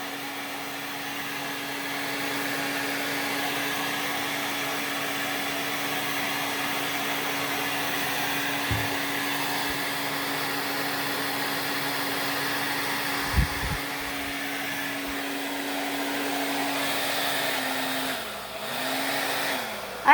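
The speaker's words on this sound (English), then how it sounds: "I have a hairdryer that does not like to turn off." A hair dryer blowing on wet fluid paint, a steady whooshing hum with a constant motor tone running for the whole stretch, interrupted by a couple of faint knocks and a pitch wobble near the end.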